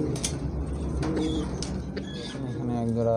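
A pair of German shield pigeons coo softly at close range while a person talks over them throughout.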